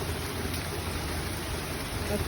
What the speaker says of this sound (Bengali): বৃষ্টির শব্দগুলো শুনতে অনেক ভালো লাগে